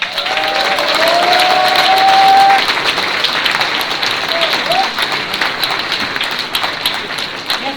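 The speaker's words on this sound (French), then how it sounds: "Je vous demande d'applaudir très fort Eliane Assassi." Strong applause from a crowd at a NUPES public meeting on pensions in Villeurbanne, greeting Eliane Assassi with sustained dense clapping and some cheering, voices mixed in throughout.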